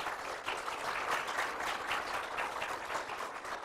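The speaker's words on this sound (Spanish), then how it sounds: "La recibimos con un aplauso, por favor." Applause from an audience at a children's drawing and painting contest award ceremony, welcoming the president of Fundación Quiera: even, fairly soft clapping from a crowd that holds steady throughout.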